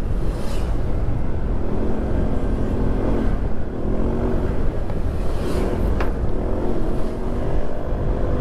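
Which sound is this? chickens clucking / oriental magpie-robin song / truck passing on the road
truck passing on the road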